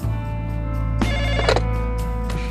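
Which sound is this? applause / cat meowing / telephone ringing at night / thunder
telephone ringing at night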